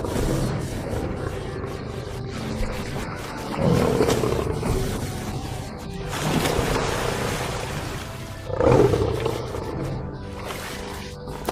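A wild lion roars in a series of deep, heavy bursts spaced a few seconds apart, each swelling loudly over a steady low background rumble.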